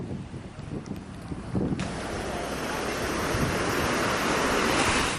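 Strong wind buffets the microphone over heavy sea waves during rough open-water weather, with a continuous loud rushing that swells further about two seconds in and stays up.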